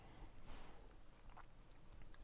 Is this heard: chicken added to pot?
no